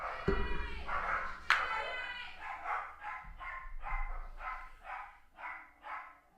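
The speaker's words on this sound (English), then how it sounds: "My dogs are going crazy." Several dogs barking and yipping excitedly indoors while scrapping over a new toy, one sharp loud bark followed by a rapid series of shorter barks, close and unvoiced by people.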